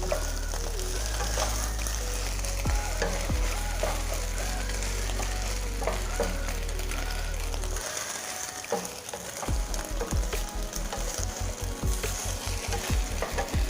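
Crispy Thai egg omelette frying in hot oil for a jungle curry: a dense, steady sizzle and crackle close by, with stirring scrapes and a slight dip near the end before the sizzling picks up again.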